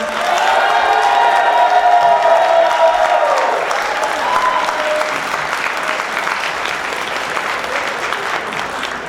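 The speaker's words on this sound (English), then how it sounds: "A big round of applause to these guys" Loud applause and cheering from a student engineering conference audience at an awards and closing session, with shouts and whoops riding on top early before settling into steady clapping.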